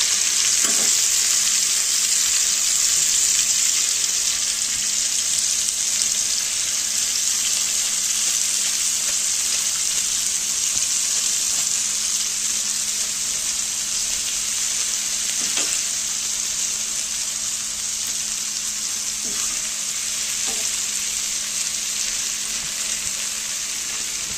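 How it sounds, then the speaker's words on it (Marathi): Green chilies fry loudly in a pan for Marathi chili kharda, a dense, constant sizzle punctuated by a few faint knocks of stirring, with no speech. "हा जो खरडा आहे मिरची याला तळायची मस्त।"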